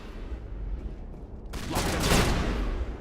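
Gunfire in Mass Effect Legendary Edition combat, a dense rattling burst of shots that swells suddenly midway and keeps crackling loudly over rumbling background noise, with no talk.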